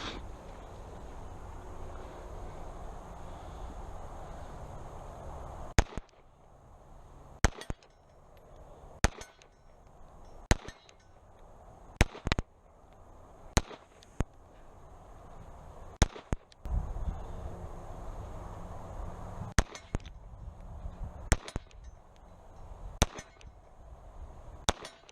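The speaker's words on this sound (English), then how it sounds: "I'll put 3 mags through it coming up on, and I can hit a steel plate." Kahr P380 compact pistol fires at a steel plate at an outdoor range, sharp cracking shots spaced irregularly across several magazines, some followed by a faint metallic ring, over a quiet background.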